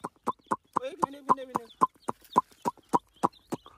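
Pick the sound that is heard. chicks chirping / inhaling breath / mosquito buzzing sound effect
chicks chirping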